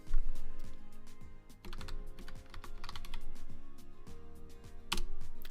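Typing on a computer keyboard while entering terminal commands, a steady run of close, crisp key clicks with a few louder strikes, heard alone without talking.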